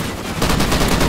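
Rapid automatic gunfire from a Call of Duty match bursts in loudly after a brief lead-in, dense and continuous like a short machine-gun stream.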